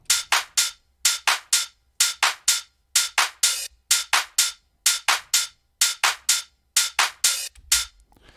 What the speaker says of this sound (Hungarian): És maga a top group, tehát a clap, és ez a kettő hi-hat, ez így hangzik.